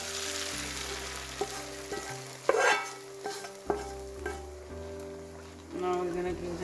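Onions fry alongside browned lamb chops in a pot, giving a soft sizzle with a few stirring knocks and scrapes, under steady tonal music and a voice talking.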